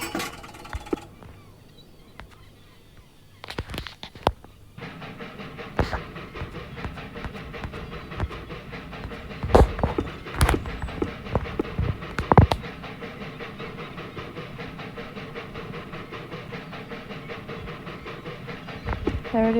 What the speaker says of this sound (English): Today I'm filming this mini Bafco express train.